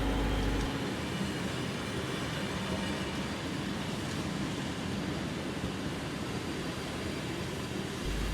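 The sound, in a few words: diesel locomotives hauling passenger carriages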